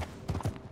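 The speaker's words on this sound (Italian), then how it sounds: "sentivo pure il cavallo che trottava" A horse trots in Red Dead Redemption 2, giving a few quick, soft hoof clip-clops. The sound is faint and very short.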